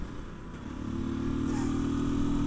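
A Janus motorcycle engine runs while being ridden, a close, steady low drone that swells slightly as the bike pulls along.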